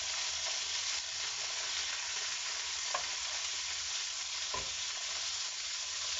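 Apples and mushrooms fry in a pan with a constant close sizzle, broken by a couple of faint scrapes as the pieces are stirred and turned.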